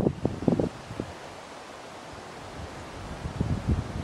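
Wind picks up over Grassy Pond in the Pine Barrens, a broad steady rush with gusty buffeting on the microphone at the start and end.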